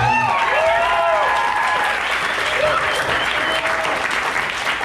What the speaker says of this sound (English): I would like a round of applause for him.